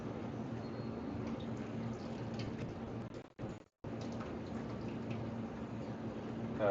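Liquid drained from a can of beans while cooking chili pours in a steady, soft trickle, close and fairly quiet, with a brief pause partway through.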